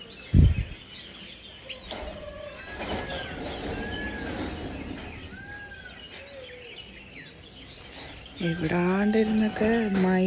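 Outdoor bird calls at a hill station in Valparai: several short rising calls stand apart from one another, and louder harmonic crowing or squawking enters near the end. The whole scene sits over faint ambient noise, with no speech heard.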